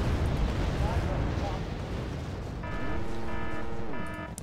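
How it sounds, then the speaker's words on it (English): Bombs explode in the strategy video game Wargame Red Dragon as a loud, rumbling blast that rolls on, followed by a rising wavering tone near the end. "Here comes the bombs."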